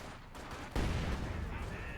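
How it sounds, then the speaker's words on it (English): Explosions from a mine and grenades in Company of Heroes 2, a sudden loud blast breaking over quieter battle noise and leaving a dense rumbling roar, fairly faint overall. "Mine hit, 2 grenades down"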